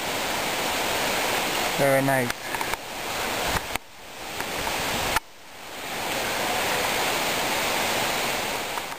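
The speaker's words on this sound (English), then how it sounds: "This is a waterfall up in Oregon." An Oregon waterfall roars as a dense, steady wash of rushing water on a rainy, wet forest trail, briefly interrupted by handling bumps, with a short spoken comment over it.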